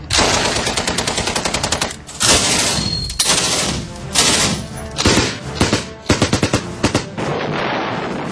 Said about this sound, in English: Number 10, the Browning Automatic Rifle. The Browning Automatic Rifle is capable of intense firepower.